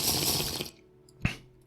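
Drinking water in TerraFirmaCraft: a loud wash of water fills the first part, then a single short gulp-like splash lands near the end, with no talk.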